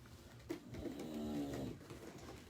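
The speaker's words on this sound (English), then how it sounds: "I have a bulldog who snores like a trucker." A pet bulldog snores through one long, rumbling drawn breath in the middle, with quieter breathing around it, low and close in a quiet indoor room.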